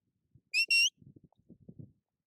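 A sheepdog training walk-on whistle gives two short, sharp high blasts in quick succession, the second slightly longer, followed by quiet low rustling and handling noise.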